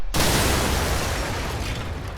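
Loud car explosion in a competitive multiplayer shooter match, a sudden broadband blast at the start followed by a sustained rumbling roar that slowly fades over about two seconds.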